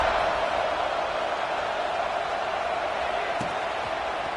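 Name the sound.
stadium crowd buzzing in football video game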